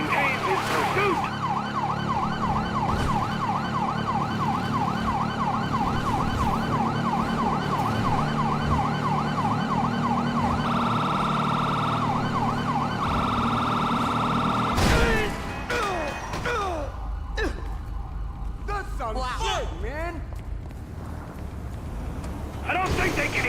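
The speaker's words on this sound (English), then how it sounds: "I don't think they can hear the sirens!" Police sirens wail in a GTA 5 tunnel pursuit, a steady cycling siren dominating the first fifteen seconds over engine rumble, then shifting to sharper yelping bursts near the end.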